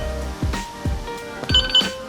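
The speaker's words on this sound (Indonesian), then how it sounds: "Alarmnya bunyi." The alarm of a Niu NQi electric scooter going off, a series of about four loud electronic chirping bursts at a regular pace, each with a sweeping tone, close by and heard alone.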